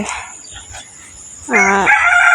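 A single chicken in a home courtyard lets out one loud, close crow partway through, rising above a quiet outdoor background.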